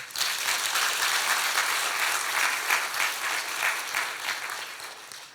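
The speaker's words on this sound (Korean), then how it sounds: "박수 한번 치세요." A church congregation claps together during a Sunday sermon, a brief burst of steady, fairly loud applause that swells and then fades.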